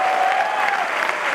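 Audience in a hall claps in a brief, dense burst of loud applause, with a thin whistle-like tone over the crowd noise.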